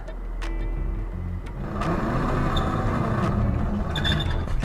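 A 2019 Audi Q3 with all-wheel drive pulls away on a mountain climb under light throttle, its engine a low, steady rumble that swells slightly as the car moves off, with scattered clicks and knocks over it.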